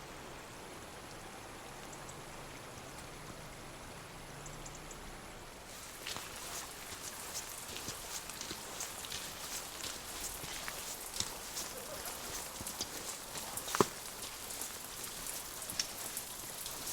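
Steady rain falls on a tent or ground at a campsite in Snowdonia, Wales, first soft and even, then denser and louder after a few seconds, with scattered distinct drops tapping close by and no talk.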